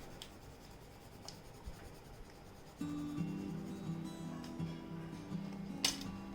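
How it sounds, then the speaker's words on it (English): A watercolor pencil scratches steadily across textured multimedia sketchbook paper in quick strokes, close and soft, with no talking. "Next, I'll use a watercolor pencil. So I'm just going to color around with that."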